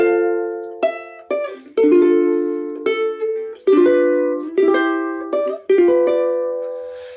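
Ukulele picking the first four measures of the bridge of Here Comes the Bride, ringing plucked notes and chords in a steady unhurried rhythm, close and clear with no voices.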